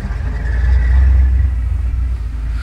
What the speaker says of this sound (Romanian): să auziți un superb sunet de motor al unui Corvette,